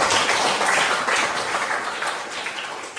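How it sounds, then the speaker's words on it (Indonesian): Classroom applause from a group of students, a steady dense patter of clapping that holds for about three seconds and tapers slightly toward the end. "Terima kasih, tepuk tangan dulu."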